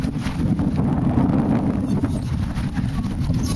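Steady wind buffets the microphone outdoors on a boat trip off Lindos, Greece, a continuous low rumbling roar with faint water wash and no clear voices.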